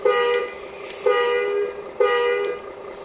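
A regular vehicle horn on a bus fitted with a basuri horn set honks three times in a steady rhythm, each blast loud, close and about half a second long, with no voices.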